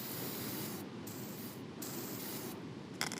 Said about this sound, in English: I'm gonna clean her up professionally, or just brake clean.